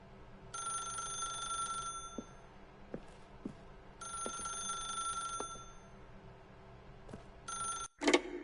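An in-game telephone in The Stanley Parable rings in two long bursts with a third starting, a bright electronic trill separated by quiet gaps, followed by a sharp click.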